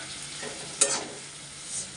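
Spice masala sautés in a pan with a steady close sizzle, and a single sharp scrape of stirring breaks in partway through the short stretch.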